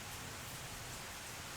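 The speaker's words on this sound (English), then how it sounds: "And you might be able to hear the rain outside." Steady rain falls outside, a soft even hiss of broadband patter with no other sounds, heard from indoors at a low level.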